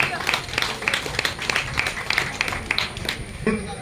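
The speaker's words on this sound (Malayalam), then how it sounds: "എല്ലാവരും കൈയടിക്കാം." An audience claps at a family meet, a steady patter of many hands with sharp scattered claps running for several seconds, close and fairly loud, with bits of voices mixed in.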